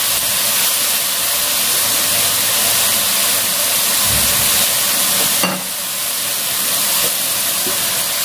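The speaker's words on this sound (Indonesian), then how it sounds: "Minyaknya sudah mulai keluar, kita masukin kecap." Soy sauce poured into hot oil in a wok while cooking a Chinese-style dinner makes a steady, loud, close sizzle, with a brief sharp scrape or clank midway and continued frying after.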